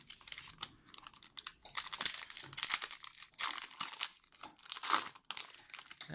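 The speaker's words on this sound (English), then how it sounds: "It's just my dog chewing a bone." A dog gnaws on a bone nearby indoors, producing irregular crunching and crinkling bursts that come and go in uneven clusters, with no talking.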